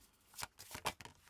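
Tarot cards drawn one after another from a deck during a love reading, giving a few quick papery slaps and riffles, close and quiet with no talk over them.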